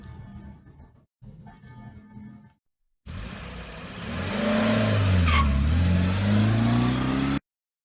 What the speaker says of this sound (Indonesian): Animasi ini menunjukkan sebuah mobil bergerak dipercepat.